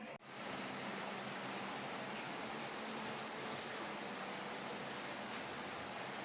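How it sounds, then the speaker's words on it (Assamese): Heavy rain pours down in a dense, unbroken hiss that stays steady and fairly loud throughout, with no voices or other sounds. "বৰষুণৰ বতৰ, ৰাতিপুৱাৰ পৰা খুবেই বেছি বৰষুণ দি আছে।"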